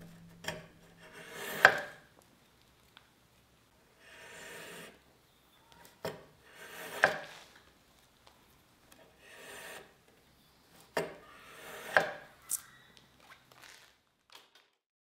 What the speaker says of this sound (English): slide the strips to the outside edge of the blade and tug through and slide back to the main part of the blade.